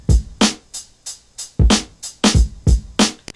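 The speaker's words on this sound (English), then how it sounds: "let's just listen to the drums here" A simple drum loop plays alone, with punchy kick and snare hits in a steady, repeating rhythm that is loud and close.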